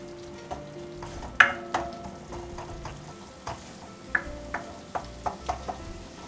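A spoon stirs garam masala and spices in a hot pan for a dhaba-style dal tadka, with a soft fry underneath and scattered light taps and scrapes.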